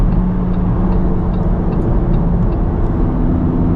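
Lamborghini driving on winter roads in comfort mode, a loud, steady engine drone with road rumble throughout and no talk.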